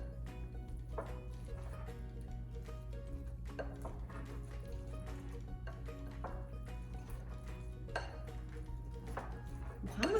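A spoon scrapes and clinks against a bowl while chicken salad for sandwiches is stirred, soft irregular taps over a steady low kitchen hum.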